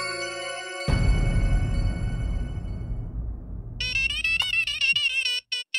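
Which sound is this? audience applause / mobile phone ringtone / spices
mobile phone ringtone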